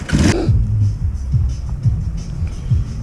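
A Suzuki GS500E motorcycle engine growls and revs in short bursts nearby, with a sharp noise at the start and rumbling pulses that rise and fall.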